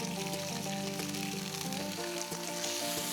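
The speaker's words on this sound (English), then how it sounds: "I don't have to quite yell over the bacon sizzle." Bacon sizzles and crackles steadily in a pan, a dense, bright frying hiss close up and continuous for the whole few seconds.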